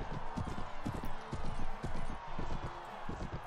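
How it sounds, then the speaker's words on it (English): Horse hooves clip-clop rapidly and continuously in the Mount & Blade video game, a dense rhythmic galloping patter that stays loud and close throughout. "Oh fuck no, they got on a horse."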